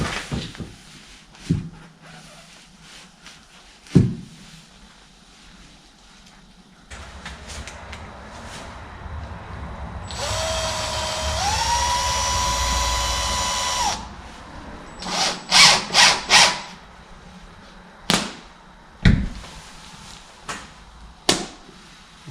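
A power drill drives fasteners through insulation in a post frame shop, a loud whirring run of several seconds amid scattered knocks and handling clatter, with shorter drill bursts afterward.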